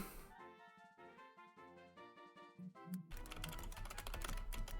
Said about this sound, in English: I've got like physical tapping sounds every time I press a key on a keyboard